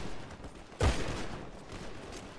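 A single loud gunshot blast in the video game GTA, followed by a fading rumble, set against a busy game background.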